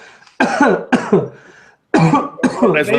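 Several loud, harsh coughs in close succession, close up, with short pauses between bursts.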